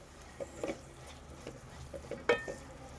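Chopped onions frying until brown in a pan for dhaba-style achari paneer masala, giving a low steady sizzle broken by a few brief clinks and stirring scrapes, close and fairly quiet with no talk.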